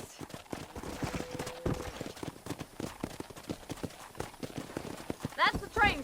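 Horse hooves clip-clop irregularly across the ground of a corral in Red Dead Redemption, with a few snorts and a short whinny near the end, while people talk over it.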